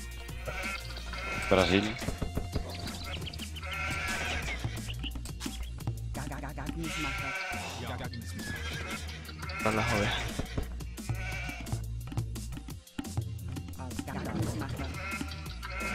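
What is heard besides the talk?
sheep bleating in video game Age of Empires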